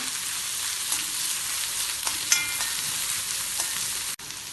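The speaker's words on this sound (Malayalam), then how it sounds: "മൂന്നല്ലി വെളുത്തുള്ളി ചെറുതായി മുറിച്ചതും രണ്ട് പച്ചമുളക് വട്ടത്തിൽ മുറിച്ചതും ഇടാം ഇതിനി ഇളക്കി വഴറ്റാം" Sliced garlic and rounds of green chili sauté in oil with onion and ginger for a potato sandwich filling, giving a close, steady frying hiss broken by a few faint stirring clicks.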